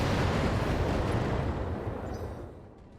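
Missile salvos from LRM-15 launchers in BattleTech: a dense, roaring rumble of rocket fire, loud and sustained at first, then gradually easing off over three seconds, with no voices.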